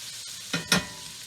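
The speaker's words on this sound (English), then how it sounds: "All right, so we've got both pans frying up" Pork sizzling in two frying pans for chop suey, with bamboo shoots in the mix; a steady low hiss runs throughout, broken by two short louder sizzling bursts close by.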